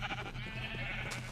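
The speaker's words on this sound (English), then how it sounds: "I gotta, like, cull these sheep. There's too many sheep." Sheep bleat repeatedly in Minecraft, several overlapping calls in a steady, busy flock chorus with no talking.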